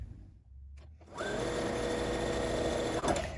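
A sewing machine stitches across quilt fabric for a scrappy wonky star block: a quiet start, then the motor whirs up into a steady, close, continuous drone with a brief dip near the end.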